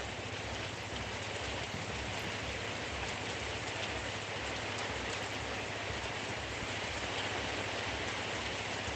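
Heavy rain pours down during a storm, a loud, continuous hiss of dense drops with a faint low rumble beneath, unbroken throughout.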